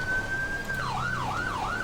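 A two-tone emergency vehicle siren from the Siren Mastery mod in GTA V holds a steady tone, then switches to rapid rising-and-falling wails, clear and fairly loud over a low engine rumble.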